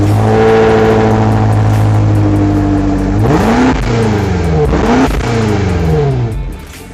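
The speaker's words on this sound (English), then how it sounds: "Thumb the starter and you're assaulted by an angry murmur emerging from the twin pipes." A BMW X5 M Competition starts with a loud, deep exhaust murmur from twin pipes, holding a steady idle before two sharp revs swell and fall back, then fading near the end.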